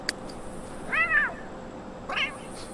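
A cat in The Sims 3 meows twice, each time a short rising and falling cry, heard over faint steady game background hum.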